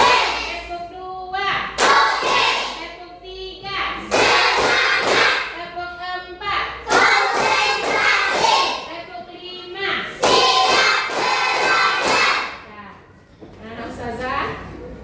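A classroom of children claps a patterned rhythm together, the Indonesian "tepuk siap belajar" clap, bursts of claps and chanting voices alternating over about fifteen seconds, loud and close.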